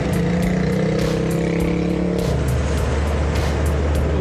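A Land Rover Series engine drones loudly and steadily while driving, with a pitch change as it shifts and a rhythmic ticking over the low rumble.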